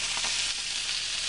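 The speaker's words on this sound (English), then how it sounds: "I love the sizzle. The sound of the sizzle is fantastic." Tournedos steaks sizzle loudly and steadily in a hot frying pan, a continuous crackling hiss with no voices over it.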